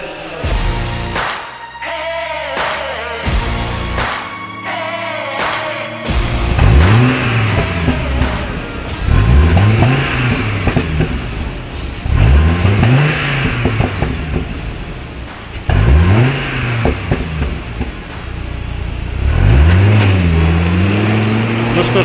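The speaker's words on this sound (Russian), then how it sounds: "вот еще один довольный клиент уезжает с классным звучным выхлопом" A Hummer H3 with a tuned exhaust revs and accelerates loudly several times in rising sweeps, then pulls away. The engine note stays close and prominent throughout, with a voice briefly audible near the start.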